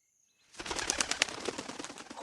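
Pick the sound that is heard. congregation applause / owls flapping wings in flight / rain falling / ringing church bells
owls flapping wings in flight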